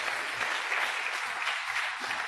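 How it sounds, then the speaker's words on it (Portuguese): A church congregation gives a round of applause during a sermon, heard as faint, steady, dense clapping from many hands. "vamos dar uma salva de palmas para esses homens de Deus"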